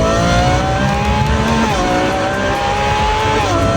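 Lamborghini Revuelto fitted with a 3D-printed titanium non-valve catback exhaust and stainless Kevlar-shielded race pipes, loud steady engine drone accelerating on a test facility, pitch rising and dipping with gear changes.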